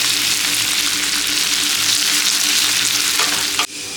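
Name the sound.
chopped onion frying in hot oil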